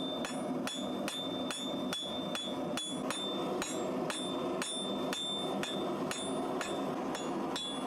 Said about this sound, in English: use the horn of the anvil, which is used for making curves, and then basically hammer it to curl it round there.